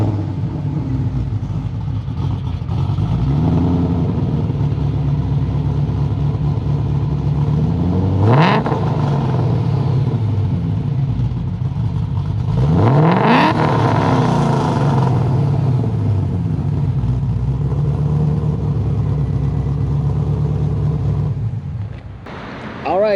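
Cammed Whipple-supercharged Shelby on a Toronto street, its exhaust holding a loud, steady idle broken by two sharp rising revs that blast and fall away, then a brief final blip near the end; voices murmur faintly in the background.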